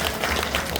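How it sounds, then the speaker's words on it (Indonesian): A brief burst of audience clapping at a Balinese drama gong comedy performance at the Bali Arts Festival, a close, dense patter lasting under a second. "Tepuk tangan dulu sarang-sarang."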